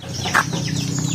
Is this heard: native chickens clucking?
yes